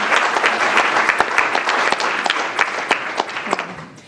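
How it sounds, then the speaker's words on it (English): A sustained round of applause from an audience at a peer review session, with dense, steady clapping that fades slightly toward the end. "If we can have a nice round of applause for our voluntolds."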